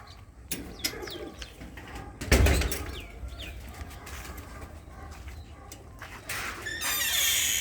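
Pigeons in a loft coo softly and whistle at close range, with one sharp burst of wing-flapping partway through and rustling movement toward the end.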